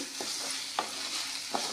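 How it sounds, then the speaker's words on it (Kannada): A spoon scrapes three times through kadachi kayi curry with coriander in a pan, over a steady soft sizzle, with no voices. "ಸ್ವಲ್ಪ ಕೊತ್ತಂಬರಿಯನ್ನು ಹಾಕಿರಿ ಹಾಕಿ ಚೆನ್ನಾಗಿ ಮಿಕ್ಸ್ ಮಾಡಿಕೊಳ್ಳಿರಿ"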